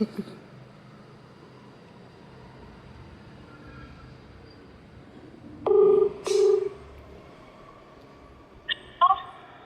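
Telephone keypad dialing: a couple of short, steady electronic tone bursts, then a few quicker chirping beeps near the end, all over a low, constant background rumble.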